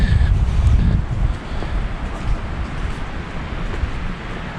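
Steady wind buffeting the microphone with a low rumble, gusting harder at first and then settling into a constant rushing noise.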